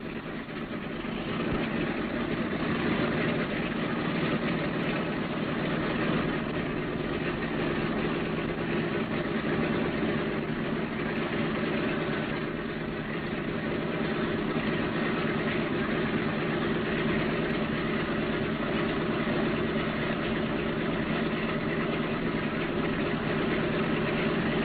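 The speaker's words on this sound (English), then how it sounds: "Throttle your engines all the way back and we'll get ready to taxi." Boeing B-17 bomber engines idle before taxi, a steady low droning rumble with constant vibration, loud and unbroken throughout.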